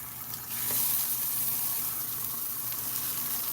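Nectarines sizzle steadily in a hot cast iron skillet, a continuous bright hiss of fruit searing for color, close and even, with no talking.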